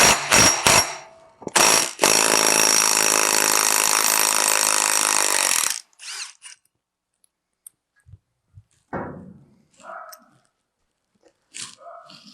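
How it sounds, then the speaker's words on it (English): A power tool removes a 13 mm bolt from a Cub Cadet XT1 lawn tractor wheel: a few sharp clicks, then a loud, close whirring burst lasting about four seconds, followed by quiet handling clicks and taps. "there is a single bolt. It is a 13 millimeter. So I will take that bolt out."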